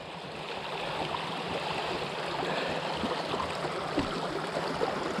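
Flowing stream water rushing steadily as a mountain bike crosses the creek on a trail, a continuous broadband wash with small splashes, close and fairly loud throughout, no voices.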